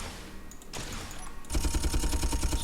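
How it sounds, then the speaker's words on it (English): A homemade flak gun in Space Engineers opens fire in a rapid, loud, continuous burst of shots that takes over the last half of the moment after a quieter stretch. "Now let's cause some damage with a flak gun I made"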